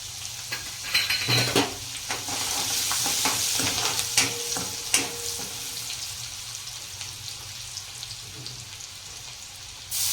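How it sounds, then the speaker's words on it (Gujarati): Chopped green chillies, about five, frying in a pan with cumin, garlic, asafoetida and turmeric, giving a bright continuous sizzle with stirring scrapes and utensil clinks, close and loud, then settling to a softer hiss. "પાંચ નંગ લીલા મરચાં કટ કરેલા નાખીશું"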